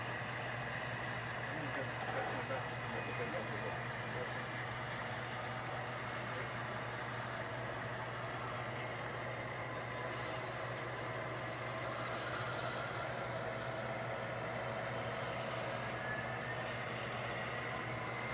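Model BN train locomotives roll into a layout yard, making a continuous droning engine hum at an even level from start to finish.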